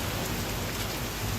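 Steady, dense rain falls on a cold day, a continuous near hiss of drops striking surfaces with no voices over it.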